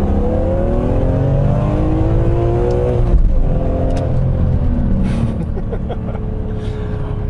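A BMW M3 E46 with its S54 engine revs hard in second gear, close and loud. Its rising tone climbs, drops sharply around the three-second mark, then climbs again as the revs build back up.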